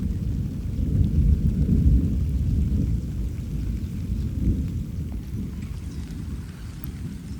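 Heavy rain pours steadily with low, rolling thunder rumbling through it, recorded outdoors at a shrine in Punjab during a daylong downpour; a dense, loud wash of sound with no voices.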